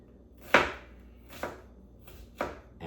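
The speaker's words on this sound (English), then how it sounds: "after I get all this chopped up" A knife chops onions and mushrooms on a cutting board in a kitchen. Three distinct, spaced chops land close and crisp with quiet pauses between them.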